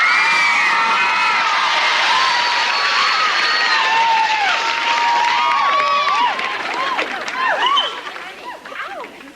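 A sitcom studio audience erupts in loud, immediate cheering and whooping as Henry Winkler and Scott Baio enter, high shrieks and shouts overlapping at close range before the noise begins to taper off near the end.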